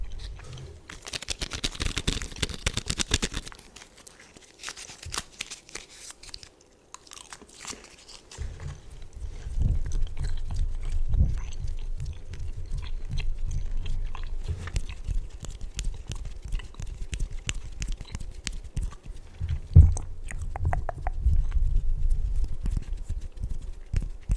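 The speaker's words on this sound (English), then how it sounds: "my gum already lost its taste, so let's take one more" Gum being chewed close up in an ASMR setting, producing soft, wet, rhythmic clicks and smacks that continue throughout, with a brief louder rustle early on.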